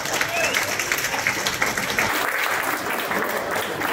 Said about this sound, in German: Ein kleiner Applaus für dich